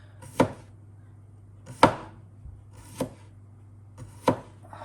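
A husk knife slices through food in four sharp, distinct strokes spaced about a second apart, close and clear over a low steady hum, with no talking.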